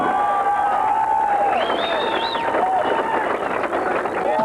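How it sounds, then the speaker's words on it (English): At an outdoor motocross nationals round in Southwick, Massachusetts, a crowd cheers and applauds champion Jean-Michel Bayle, a dense, steady roar with whistles and shouts rising above it, while a voice speaks over the noise. "As Jean-Michel BAYLE receives the accolades of the crowd for winning the championship that he so richly deserves"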